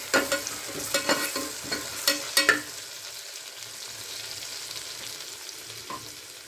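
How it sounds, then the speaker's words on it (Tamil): Two slit green chilies sautéing in hot oil in a pan, opening with a burst of stirring clatter and crackle, then settling into a steady soft sizzle. "கீரி வச்ச பச்சை மிளகா 2, அது 1 நிமிஷம் வதங்கட்டும்"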